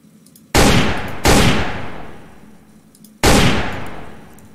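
Three loud, close gunshots ring out in the stealth video game Sneak Thief. The first two come less than a second apart and the third follows a pause of about two seconds. Each booms sharply and then decays over roughly a second.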